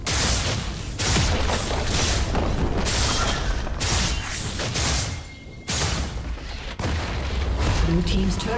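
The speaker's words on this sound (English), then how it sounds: "Blue team's turret has been destroyed." Repeated heavy booms and rattling blasts from a League of Legends match, with a turret being destroyed amid a top-lane Cassiopeia versus Jax fight, loud and dense with short gaps between bursts.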